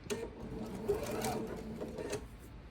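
A sewing machine stitches quilt half square triangles in a short close run, its needle whirring and tapping rapidly at a low level, with a slight shift in pace partway through.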